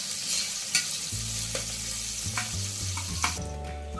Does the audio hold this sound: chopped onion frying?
yes